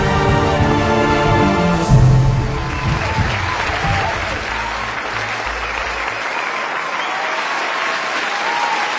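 An audience claps loudly after a dance performance at a stage show, the applause rising quickly as music ends, then thinning and continuing steadily.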